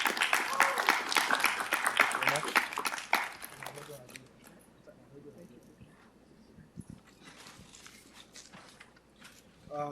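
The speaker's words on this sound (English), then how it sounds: "Let's give a round of applause for Surendra." Dense audience applause fills the first four seconds at a graduation-style ceremony honoring a computer security figure, then fades into quieter room noise with scattered claps and a brief swell at the end.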